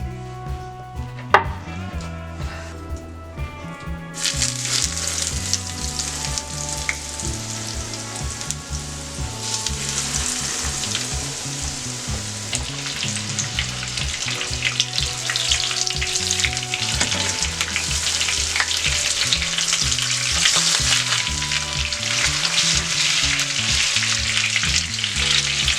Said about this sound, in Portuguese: E agora eu vou fritar eles em óleo bem quente.